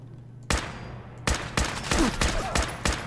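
Gunfire from Fallout 4 against Gunners: a lone shot, then a run of sharp, loud bursts in quick succession with short gaps between them, close and punchy over a low hum.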